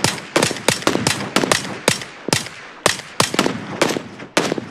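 Gunfire in a video game ambush: a rapid string of loud, close gunshots in several bursts with brief gaps, sharp cracks repeating steadily throughout without talk.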